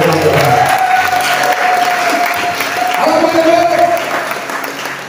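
Church congregation at a Sunday service breaking into sustained applause and joyful acclamations, loud and close, with shouted voices over the clapping and someone speaking through it.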